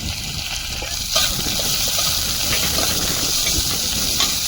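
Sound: five-spice, crushed garlic and onion sizzling in hot oil

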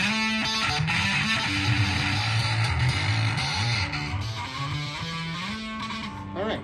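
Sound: bass guitar overdub being played

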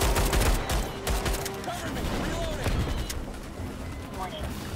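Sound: pistol gunfire in the video game Starship Troopers: Extermination

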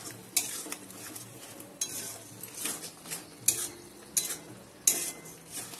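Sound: whisked yogurt added to pan on low gas flame

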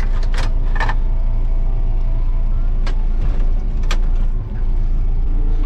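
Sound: vehicle driving to fetch oats

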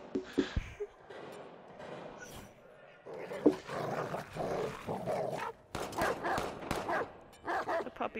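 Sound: dog attacking and growling in video game Watch Dogs 2

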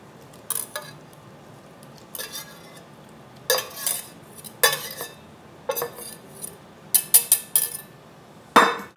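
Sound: stirring vegetables into batter in a mixing bowl

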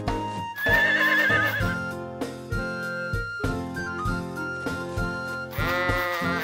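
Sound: sheep bleating in video game Harvest Moon The Winds of Anthos

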